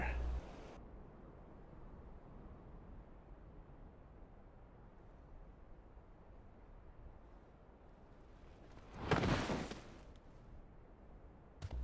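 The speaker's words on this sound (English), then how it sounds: "Gunfire." A burst of gunfire in Final Fantasy XIV rings out loud near the end, a dense rapid volley of about a second and a half following a long stretch of quiet low rumble.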